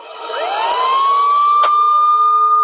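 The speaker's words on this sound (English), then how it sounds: "oh, now the ambulance is coming" An ambulance siren wails steadily nearby, its rising tone settling into a loud sustained pitch that holds throughout, with a few brief clicks over it.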